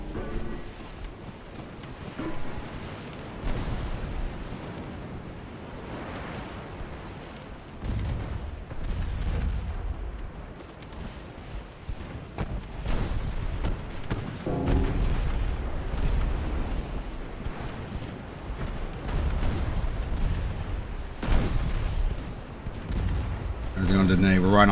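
Naval torpedo hits and artillery explosions from Ultimate Admiral: Dreadnoughts rumble through a running sea battle, repeated deep booms and rolling blasts over continuous ship noise, with people talking throughout.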